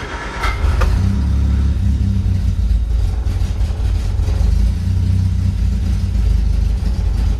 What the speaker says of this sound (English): pump some gas here. Little sputter to get going.